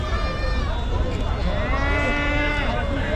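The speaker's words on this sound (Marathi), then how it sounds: "ओके धनगरी शेळ्या कान कातरलेल्या पाहू शकतो" Dhangari goats with clipped ears at a large goat and sheep market in Chakan, Maharashtra, bleating close and loud in a sustained wavering call over dense crowd murmur and livestock noise.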